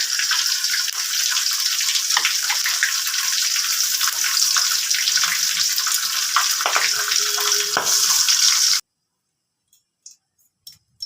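Steady loud sizzle of hot oil in a wok during a Bengali katla fish curry, continuous for about nine seconds before cutting to near silence with a few faint clicks.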